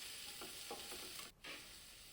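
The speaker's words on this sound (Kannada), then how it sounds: "ಈಗ ನಾನು ಟೊಮೆಟೊನೂ ಕೂಡ ಇದ್ರ ಜೊತೆ ಸೇರಿಸ್ಕೊತಾ ಇದ್ದೀನಿ. ಸೇರಿಸ್ಕೊಂಡು ಸ್ವಲ್ಪ ಫ್ರೈ ಮಾಡ್ಕೊಳ್ಳೋಣ." Onion and tomato frying in oil for a crab sambar masala, a steady soft sizzle with a few scraping stirs, fairly quiet and close, with a brief dip near the end.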